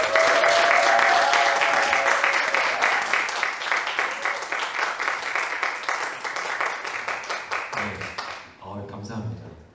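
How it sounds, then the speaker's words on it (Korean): An audience applauds at a book launch for the planning book 'Planning 0.0': a sustained wash of dense clapping, with a voice speaking over it at first, thinning and fading out near the end. "여러분의 큰 박수로 시작하도록 하겠습니다."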